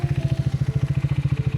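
A motorcycle engine runs on a rainy forest road at night, its steady, rapid exhaust pulses thumping close and even throughout.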